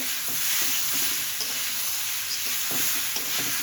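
Fish curry with mung dal fries in a pan under a steady sizzle, broken by repeated scraping strokes of a spoon stirring the mixture, close and with no voices.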